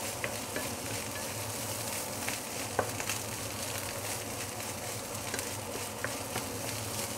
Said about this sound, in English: Now we mix everything nicely together.